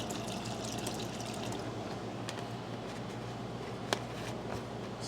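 Warm water poured into an ultrasonic cleaner for cleaning an Ariens lawn mower carburetor, a steady close splashing fill with a small knock near the end and no talk.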